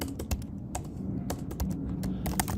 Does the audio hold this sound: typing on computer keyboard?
yes